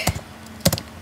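Keys clatter on a computer keyboard while code is entered, arriving as a few short bursts of close, crisp taps separated by brief pauses.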